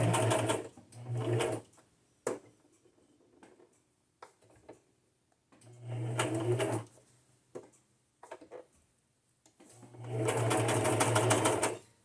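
A sewing machine stitches onto junk journal cards and napkins in three short bursts of rapid, close mechanical whirring, separated by quiet pauses with small clicks and handling taps.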